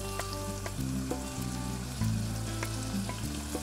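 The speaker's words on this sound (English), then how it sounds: "Now add the garlic and the paprika. Cook for another 3 minutes, stirring frequently." Garlic and paprika fry in a pan for chorizo and hominy soup, giving a steady close sizzle with light scraping from stirring.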